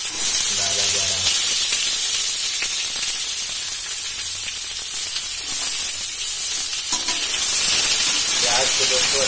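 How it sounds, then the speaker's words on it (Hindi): Chopped onions sizzling and being stirred in hot oil with bay leaf, cumin and panch phoron in a home kitchen pan, a loud steady frying hiss throughout with occasional scraping stir sounds. "प्याज को दोस्तों अच्छी तरह चला लें क्योंकि तेल पूरे प्याज में लगना जरूरी है"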